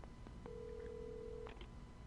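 Faint telephone tones over a low hum in the video game Alan Wake Remastered: a short beep, then a single sustained tone about a second long, with quiet clicks around it.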